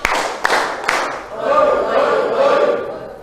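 A class claps three sharp, evenly spaced times in unison, followed by a swell of children's voices shouting together.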